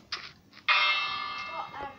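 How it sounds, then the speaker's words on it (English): A bell used as a doorbell in Minecraft gives a short ding, then a sharp metallic clang that rings out loudly and slowly fades over about a second. "If you're probably wondering why that bell's there, that's my new way of making doorbells in Minecraft"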